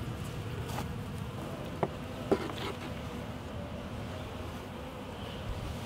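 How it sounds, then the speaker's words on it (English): Honey bees buzzing around an opened beehive with drawn comb and honey bars during a spring inspection, a steady soft drone throughout with a couple of brief clicks. "You can see the bees going after the honey."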